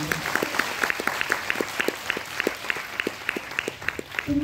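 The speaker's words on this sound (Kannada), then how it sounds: "ಮೊದಲನೇದಾಗಿ ಎಲ್ಲ ತಂಡಕ್ಕೆ ಇನ್ನೊಂದು ದೊಡ್ಡ ಚಪ್ಪಾಳೆಯನ್ನು ಕೊಡಬೇಕು." An audience applauds a women's theatre troupe after a Kannada play, a dense, steady patter of many hands clapping at moderate distance, continuing evenly throughout.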